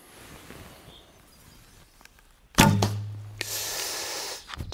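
An arrow is loosed from a Sanlida Hermit X10 ILF hunting recurve bow, a single sharp loud snap of the string followed by a sustained low thrum, then a hissing flight and a distant thud of impact.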